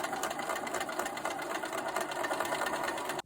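A sewing machine runs steadily, sewing a quarter-inch seam along quilt fabric. Its fast, even mechanical whir and rapid ticking hold for about three seconds and then stop abruptly.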